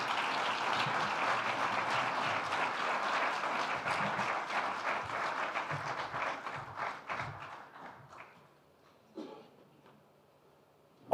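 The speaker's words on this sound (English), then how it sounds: "A round of applause for Oyo," Audience applause at a business forum for a dance troupe's performance, a dense burst of clapping that thins out and fades to scattered claps.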